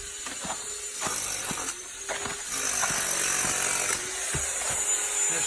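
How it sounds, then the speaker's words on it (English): A power drill bores into the hollow voids behind a front porch during a full termite treatment, whirring in repeated bursts that rise and stop, with sharp clicks and a steady background hiss. "we also need to drill all the voids behind the front porch"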